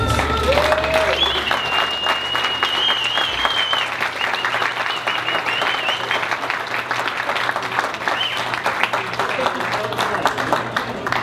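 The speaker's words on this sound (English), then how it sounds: "Everybody clap your hands." Guests at a wedding reception clap their hands together in a loud, sustained round of applause that runs throughout, with some voices and background music faintly beneath.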